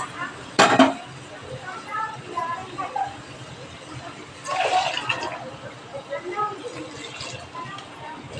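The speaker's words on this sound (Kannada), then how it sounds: "ಸ್ವಲ್ಪ ನೀರು ಸೇರಿಸ್ತಾಯಿದ್ದೀನಿ." A little water goes into a pot of cut potatoes, beans and spices, making two short splashing pours amid clinks of utensils and low kitchen noise.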